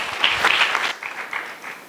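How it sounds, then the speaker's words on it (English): Brief applause from an audience at a women and youth entrepreneurship showcase in a city hall, a moderate patter of clapping that thins out toward the end. "Round of applause for them."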